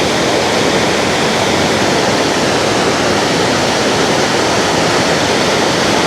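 Water rushing through rapids on the Mekong River in southern Laos, a dense, constant roar of churning flow that stays loud and unbroken throughout.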